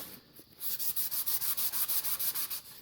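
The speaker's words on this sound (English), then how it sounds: "extending through to put pressure on the sandpaper, not jamming it down" Sandpaper worked back and forth over a wooden tanto: about a dozen steady, evenly spaced rasping strokes, close and fairly soft, with no talking.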